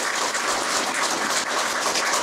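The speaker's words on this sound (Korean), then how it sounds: "박수 부탁드리겠습니다." An audience at a political support rally claps in a steady, dense wash of applause that holds at moderate volume for a couple of seconds, with no voices over it.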